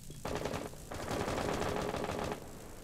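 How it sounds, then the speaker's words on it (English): Sustained automatic gunfire in a competitive PC tactical shooter match, rapid dense bursts through a lobby entrance, loud and continuous for most of the moment before easing off near the end. "They are shooting through the lobby entrance."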